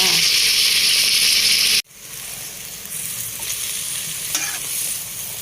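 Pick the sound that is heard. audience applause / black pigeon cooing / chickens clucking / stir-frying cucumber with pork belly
stir-frying cucumber with pork belly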